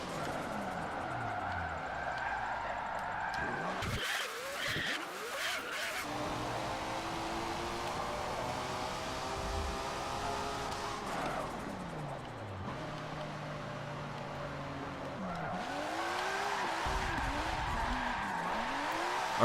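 A widebody Nissan R31 Skyline GTS-R in Forza Motorsport 7 drifts with long, wavering tire squeals over a revving engine, the screech rising and falling through several slides, with gear shifts and engine bursts between them.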